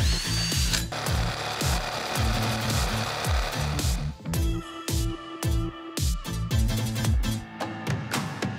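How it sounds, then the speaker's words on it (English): A hole saw on a power drill grinds through wood in rapid bursts, the motor revving and cutting up close, then a steadier whir with brief pauses. "So we're gonna drill out each of our corners."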